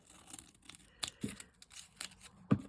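Scissors snipping down toward the centre of a paper craft, a few quiet, scattered cuts and crinkles close by.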